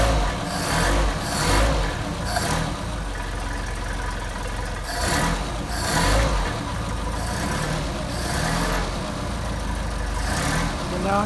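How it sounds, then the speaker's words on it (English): Car engine fitted with Solex 44PHH carburetors idling after a cold start with choke, a steady rumbling idle with a few gentle swells in revs, close by. "Now I'm going to warm up the engine,"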